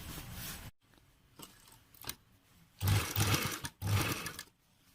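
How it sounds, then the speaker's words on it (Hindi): A sewing machine stitches a fabric placket in two or three short runs, with a longer loud burst of stitching near the end separated by brief pauses and quieter handling sounds in between. "तो चलिए सबसे पहले यहाँ इधर में हम सिलाई"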